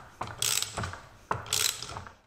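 A bearing splitter being fitted and tightened under a differential bearing during a Jaguar S-Type teardown gives two bursts of metallic ratcheting and scraping, each starting with a sharp clank, close and fairly loud.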